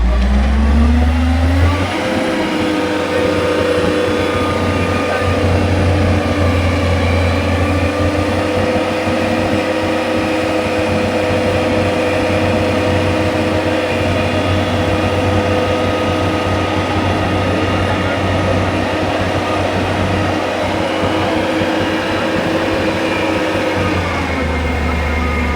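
A batching plant vehicle's engine runs loud and steady as the boom swings, a continuous heavy drone with a rising whine at the start and easing toward the end, close up.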